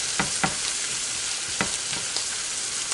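Cabbage sautés in a pan with a dense, steady sizzle that holds throughout, broken by a few soft clicks and scrapes of stirring, close and alone with no voices.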